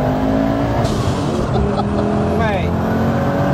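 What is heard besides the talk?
1000hp Audi 80 engine accelerating in third gear with turbo boost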